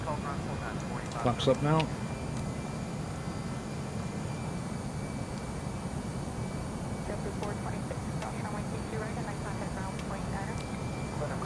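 A steady broadband roar from an aircraft's engines at climb power in the Prepar3D flight simulator fills the background while a person talks over it briefly near the start.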